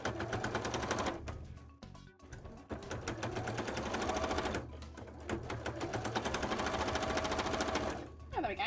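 A sewing machine stitches a cosplay headpiece in fast rattling runs, loud and near, broken by brief pauses, while a voice talks at times over the mechanical chatter.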